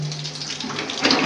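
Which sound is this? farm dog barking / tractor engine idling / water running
water running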